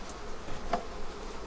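Honeybees hum from a cluster in a hive on a warm day, a faint steady drone with one brief closer buzz passing midway.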